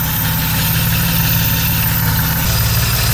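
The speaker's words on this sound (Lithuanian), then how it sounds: "Bet dirba tai kaip naujas variklis" A BMW E30 with an M20 engine on a VEMS ECU, individual throttle bodies and custom coil packs idles steadily up close, a loud even low rumble with a smooth regular pulse and no voices.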